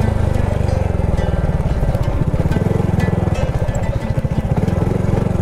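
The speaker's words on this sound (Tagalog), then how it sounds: "Pasok yung motor." A motorcycle engine chugs steadily and loudly up close as the bike rides onto rough, rocky ground at a lakeside camping site, with a continuous rumble and no talk.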